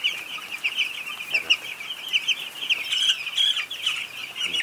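Village chickens on a farm in Nepal's Tarai cluck steadily from close by, a busy overlapping chatter of hens with occasional flaps of wings and no talking.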